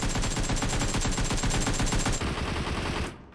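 Rapid automatic AK rifle fire in a video game match, a long dense burst of close, loud shots lasting about three seconds before cutting off abruptly, with no voices over it.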